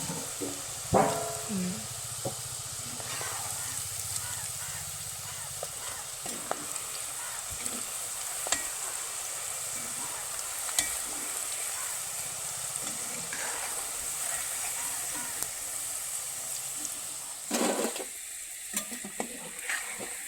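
French fries sizzle steadily in hot oil in a home kitchen, a constant close frying hiss with occasional stirring clinks and a brief louder burst near the end.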